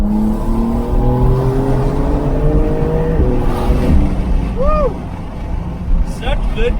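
A 2022 Porsche 911 Targa 4S pulls hard under acceleration, its engine note climbing loudly in pitch, dropping sharply at a quick upshift, then climbing again from inside the car.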